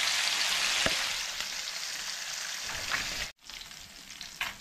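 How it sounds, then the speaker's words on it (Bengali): Pieces of katla fish frying in hot oil, a loud continuous crackling sizzle with a brief sharp break near the end, then the frying resumes, with no talking. "ব্যাস, মাছগুলো ভাজা হয়ে গেছে, মাছটা আমি তুলে নিচ্ছি।"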